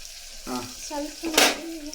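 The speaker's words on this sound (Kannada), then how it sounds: "ಈರುಳ್ಳಿ ಹಾಕಬೇಕು ನೋಡ್ರಿ" Onions frying in a pan while mutton is being cooked at home, a soft sizzle with a few stirring clatters and a brief louder burst of hiss midway.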